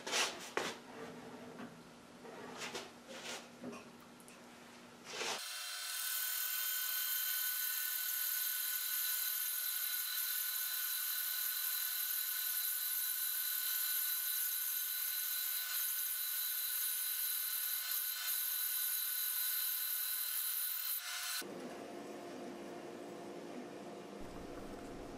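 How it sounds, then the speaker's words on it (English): A power saw resaws a wide wooden board, cutting it roughly in half on an Accu Slice jig: a loud, steady high whine with tonal bands runs for about sixteen seconds between quieter stretches of shop noise before and after. "I just want to cut it approximately in half and we can run it through the planer later."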